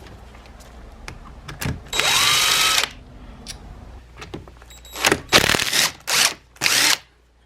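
Power tool backing out the oil filter bolts on a locked-up 2004 Honda CRF250 dirt bike engine, several short loud whirring bursts close by with metallic clicks and handling noise between them.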